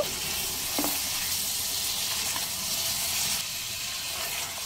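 Mutton frying down in a pot for haleem, a dense continuous sizzle and hiss of steam close by, with a faint stirring scrape near the start; no talking.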